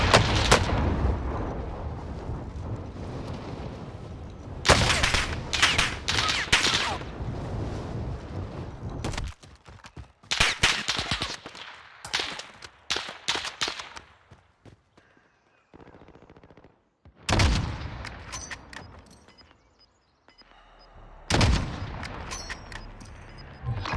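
Heavy automatic gunfire and explosive blasts in a video game battle, loud bursts of rapid shots coming in waves with short quiet gaps between them.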